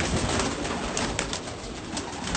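Teddy and Rampuri pigeons cooing in a loft, a steady soft murmur of overlapping coos with no talk.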